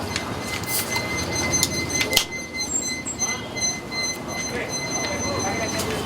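A train passes on a railway line beside a residential neighbourhood, a broad rumbling wash with sharp squeals and clanks, while people talk nearby.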